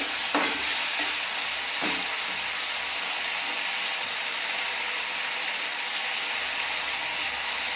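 Spice paste for a green jackfruit kalia fries over low to medium heat in a pan, giving a continuous close sizzle. A couple of scraping stirs come near the start.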